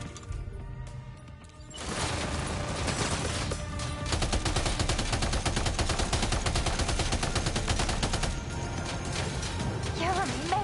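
Rapid, sustained gunfire with dense repeated shots, likely from a game or film, loud and continuous for most of the stretch after a quieter opening, with background voices mixed in.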